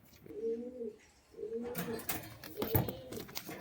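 A male pigeon of a red-faced show breed coos softly in a quiet setting: three low, rolling coo phrases, the last one followed by a brief clatter.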